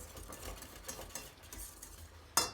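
Milk pudding (muhallebi) being stirred in a pot on the stove, faint, soft scraping strokes over a low simmer, ending with a sharp clink of the spoon.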